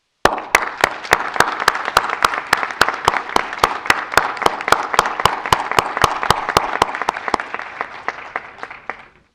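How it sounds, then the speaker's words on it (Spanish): An audience at a lifetime achievement award ceremony claps a loud, close round of applause. Distinct sharp claps sound in a quick, steady rhythm over a dense wash of many hands, then fade out at the end. "pido un gran aplauso para nuestro galardonado"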